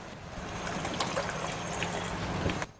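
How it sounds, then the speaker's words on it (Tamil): Water trickling and pouring into a pan of peas masala gravy during home cooking, a steady moderate splashing flow that lasts throughout and stops abruptly near the end. "இப்போ பாருங்கள், இதில் இன்னும் கொஞ்சம் நம்ம தண்ணி சேர்த்துக்கலாம்"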